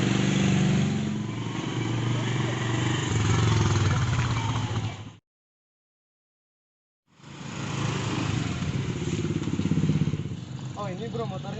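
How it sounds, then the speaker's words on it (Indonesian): A motorcycle engine runs close by at the mouth of an alley, steady and loud, cutting out briefly before starting up again, with people talking over it. "Oh ini bro motornya."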